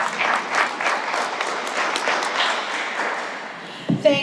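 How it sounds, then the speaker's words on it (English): A room full of people at a political candidate forum applauds, steady clapping that gradually tapers off before a voice speaks briefly at the end. "please extend your applause for our two candidates here today"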